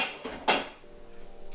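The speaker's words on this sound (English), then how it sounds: "I'll actually get out the lid for the pan." A pan lid is pulled out from among kitchen cookware for a 10 or 12 inch skillet, giving two short metallic clatters close by, then a quiet hum of cooking behind.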